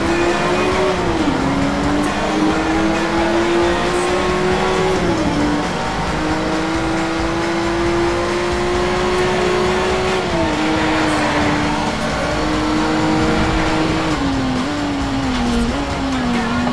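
A race car engine drones loud and continuous in Need For Speed Shift during a time attack at Tokyo Club, its pitch rising and dipping through gear changes and corners.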